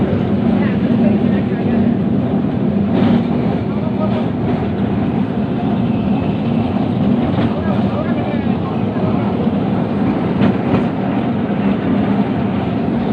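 A Kolkata tram runs from Dharmatala toward Gariahat, a steady rumbling rattle of wheels on rails with faint clicks, heard from inside the car under background chatter.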